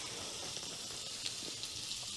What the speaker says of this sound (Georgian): ეხლა მე კარაქს დავაგდებ